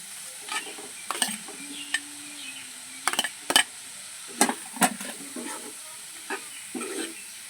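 A ginger, chili and tomato paste with ground spices being stirred and sautéed in a pan for a vegetarian soybean curry; a soft low sizzle runs beneath repeated scraping strokes and light clinks of the spoon against the pan.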